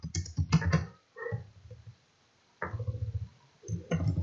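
Bursts of typing on a computer keyboard as a quiz question is entered, clusters of quick clicks separated by short pauses, close and moderately quiet.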